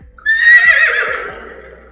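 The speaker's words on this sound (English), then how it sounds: "The horse goes neigh." A horse gives a single loud, close whinny: a high, wavering call that begins sharply and trails off over about a second and a half, heard on its own.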